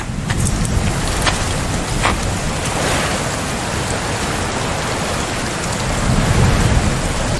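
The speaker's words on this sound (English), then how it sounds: "And it's raining." Heavy rain pours with rolling thunder in The Invisible Hours VR game, a loud, dense, continuous downpour with deep rumbles swelling beneath it throughout.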